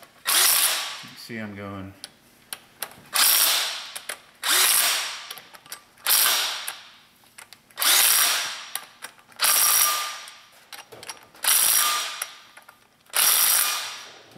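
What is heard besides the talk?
impact gun running down Honda S2000 transmission bolts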